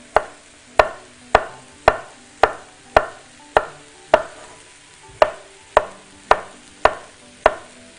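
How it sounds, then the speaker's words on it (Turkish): A knife chops through zucchini on a cutting board: sharp, evenly spaced thuds, about one every half second, close and clear with no talking. "Bunları doğramaya devam edeceğim."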